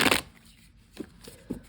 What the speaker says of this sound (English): shuffle this deck just a few more times